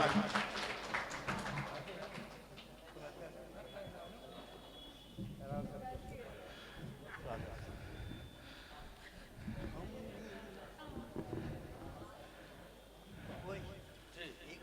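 Audience at an All India mushaira poetry gathering in Jabalpur, bursts of clapping that swell and fade in uneven waves, fairly faint and distant, with voices and hall murmur mixed in between.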